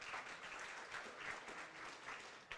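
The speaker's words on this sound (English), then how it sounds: "Let's give a round of applause." Applause at the opening ceremony of an organic agriculture event, a continuous patter of many hands heard fairly faintly and at a distance, without pause.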